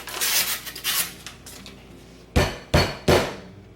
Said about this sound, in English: I'll open my biscuits